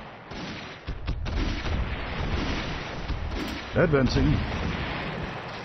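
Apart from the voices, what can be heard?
artillery firing in Army Men RTS video game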